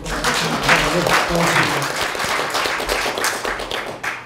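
Applause from the audience at a Korean political forum with a presidential candidate, individual claps audible amid the crowd while voices speak over it and a low hum runs underneath.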